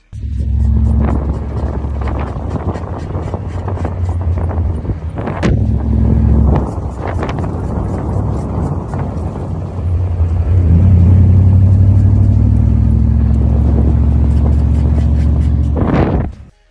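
A continuous low rumbling drone from a moving E36 BMW with a worn rear wheel bearing, steady and loud, with road and wind noise and occasional thumps throughout.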